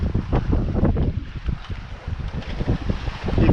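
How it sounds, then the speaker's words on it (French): Gusty wind buffets the microphone aboard a sailboat leaving an anchorage off Cap Corse, a loud, uneven rumbling roar with pulsing gusts and faint water wash beneath. "un bon petit vent ce matin, comme prévu"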